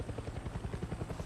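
Fast, rhythmic rotor thumping from a helicopter in Far Cry 6, loud and close and steady throughout the short burst, with no voices.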